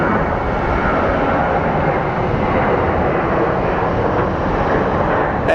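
A jet departing Phoenix Sky Harbor gives off a continuous, loud, dense engine roar at close range, even and unbroken for several seconds, with no voices over it.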